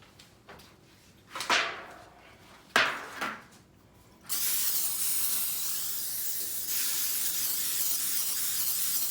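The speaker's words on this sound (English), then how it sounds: "go ahead and spray off your pan" A few light knocks and clatters, then a long, steady hiss of cooking spray from a can onto a baking pan, close and continuous for several seconds.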